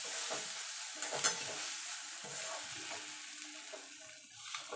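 Ridge gourd paste fries in oil in a wok, producing a soft, low sizzle with gentle scraping stirs, quiet and close.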